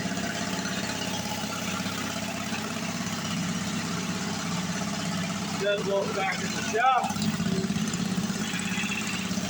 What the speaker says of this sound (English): Gasoline powered air compressor back up and running.